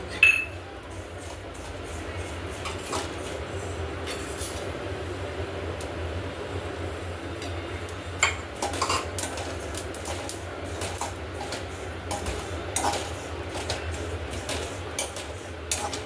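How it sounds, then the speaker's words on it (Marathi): Cumin seeds dry-roast in a pan while being stirred, producing soft, irregular clinks and scraping against a low steady background hum, with no talking. "आता हे जिरे भाजून घ्यायचे."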